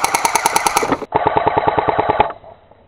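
An airsoft gun fires two rapid bursts of sharp, evenly spaced clicking shots, loud and close. A brief gap separates the bursts, and the second one sounds duller before a short tail fades out.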